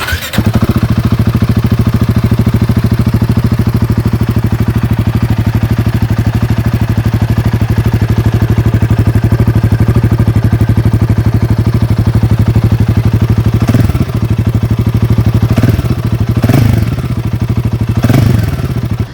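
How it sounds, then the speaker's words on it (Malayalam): Royal Enfield Himalayan 450 motorcycle idling close by, a loud, steady throbbing exhaust note with a deep pulsing beat, broken by a few short throttle blips near the end. "ഇതിൻ്റെ ഒരു എക്സോസ്റ്റ് നോട്ടും അത്യാവശ്യം കൊള്ളാം."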